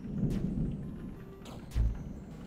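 Thunderstorm in the indie horror game Anthology of Fear: low rumbling thunder rolls with a couple of sharp cracks and a heavier boom near the end, steady and fairly close, with no voices.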